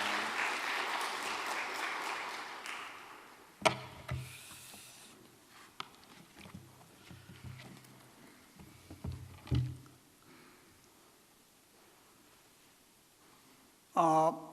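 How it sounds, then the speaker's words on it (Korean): An audience at a church stewardship seminar applauds in welcome at the start. The clapping fades into scattered thumps and rustles, and a brief loud burst of sound comes near the end. "우리 박수로 우리 환영하도록 하겠습니다"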